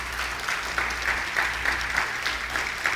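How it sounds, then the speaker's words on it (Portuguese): Church congregation applauding as a sustained, dense wash of clapping with faint rhythmic pulses, steady and fairly loud throughout with no talk. "Dá uma salva de palmas a Jesus aí."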